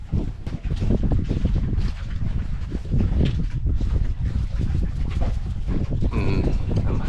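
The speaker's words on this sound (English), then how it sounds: "Better be good, because it's windy up here." Loud wind buffets a boat deck on a camping and fishing trip in the Everglades, roaring and gusting with constant rumble and flutter across the microphone.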